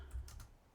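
Quiet, close typing on a 2010 MacBook Pro laptop keyboard, a few soft key clicks in quick succession over a faint low hum.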